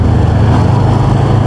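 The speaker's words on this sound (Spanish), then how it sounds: "toda moto debería jalar bueno en primera" A SR250 motorcycle pulls hard in first gear, its engine drone loud, close and steady with a dense low rumble and no voices over it.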